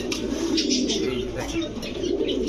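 Pigeons coo softly at a Bangladeshi pigeon shop selling racer, sherting and giribaz breeds, their low burbling calls continuous under nearby talk and background chatter.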